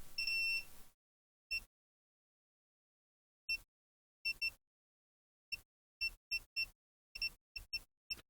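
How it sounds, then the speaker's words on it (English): A continuity tester gives a series of short electronic beeps, single and in quick pairs, while probing capacitors on a Nintendo Switch OLED circuit board, separated by silence, clear and close. "expect to hear a beep on one side but not the other"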